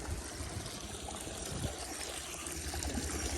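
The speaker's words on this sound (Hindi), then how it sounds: "यहाँ से पानी आता है" Water flows steadily onto farmland from an inlet, a constant broadband rush with a faint trickle and no break across the few seconds, fairly quiet.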